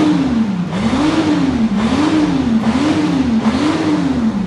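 A supercharged Isuzu Panther diesel engine revs up and down in a steady repeating cycle, loud and close, with the whine rising and falling about four times and no talking.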